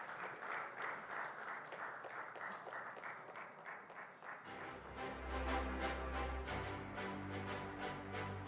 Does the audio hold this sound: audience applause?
yes